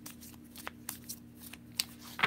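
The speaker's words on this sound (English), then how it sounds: "One more shuffle." Tarot cards riffle and flick in quick, soft bursts, a short shuffling sequence close by with a few sharper snaps near the end.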